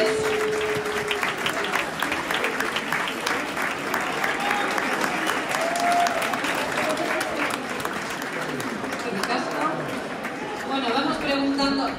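An audience applauds three volunteers at a theatre show presentation, steady clapping lasting throughout with chatter and voices mixed in.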